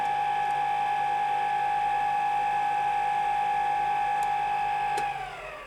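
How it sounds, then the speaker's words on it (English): A motorized carriage feeds across a metal lathe while it makes a cut, giving a steady, loud whirring drone with a constant pitch that winds down and fades near the end. "Just flip that over and it'll start driving the carriage across, making a cut."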